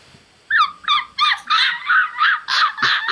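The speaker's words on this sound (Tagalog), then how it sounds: "Aso ng puti." A dog barks repeatedly in a steady run of about eight loud, close, high-pitched yapping barks, with no talking.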